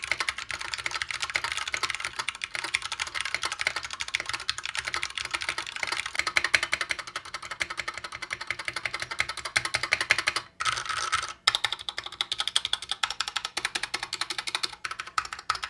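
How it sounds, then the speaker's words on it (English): Steady, fast typing on a PewDiePie mechanical keyboard fitted with Cherry MX Brown switches and pre-lubed stabilizers, close and continuous for about fifteen seconds with two brief pauses near the end and no voices. "Here's a sound test."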